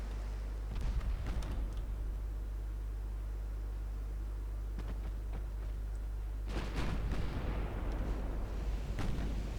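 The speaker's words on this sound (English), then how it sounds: "Let's go with AP on the 7-inch guns." Seven-inch battleship guns firing in the naval game Ultimate Admiral Dreadnoughts, several heavy booming salvos scattered over a constant low rumble, with a loud cluster of blasts near the end.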